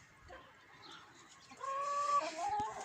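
Backyard hens cluck and call among a small flock of eleven hens with one rooster, starting faint then growing louder and busier in the second half.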